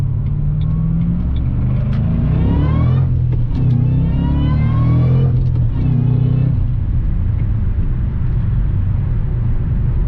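A supercharged 2007 Roush Mustang with a 4.6 V8 accelerates hard, its engine note climbing through repeated rising pulls with brief gear-change dips, loud and close with no voices.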